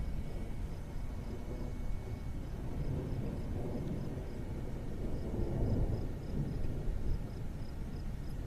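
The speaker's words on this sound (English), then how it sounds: "there's just constant thunder out here now" Constant rumbling thunder rolling through a Kansas storm, a steady low, distant roar with swelling surges and no clear individual cracks.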